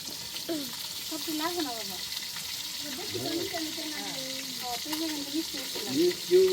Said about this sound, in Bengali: আপনাদের ওইদিকে মাছ ভাজি হচ্ছে